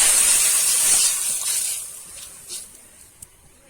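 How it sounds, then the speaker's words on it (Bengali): Water hits hot oil in a karahi while making pous pitha, setting off a loud, bright hiss that starts strong and gradually dies away over a few seconds, with a couple of small late spits. "তার জন্য একটু কড়াইয়ে তেল দিয়ে দিয়েছি। এবার একটু জলটা দিয়ে দেবো।"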